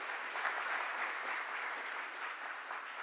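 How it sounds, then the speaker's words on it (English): A gathering audience claps together in a steady, dense burst of applause that holds at an even level for a few seconds, with no voices standing out. "you can clap that up."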